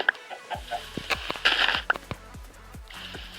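Chickens cluck in a Minecraft game: a series of short, sharp clucks and squawks in an irregular rhythm, fairly close and moderately loud, over faint game ambience with no talking.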